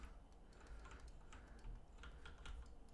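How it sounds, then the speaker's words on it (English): Rapid, quiet clicking of fingers typing on a new computer keyboard, a steady irregular patter of key presses heard close up with no voices. "I do have a new keyboard I'm trying to get used to."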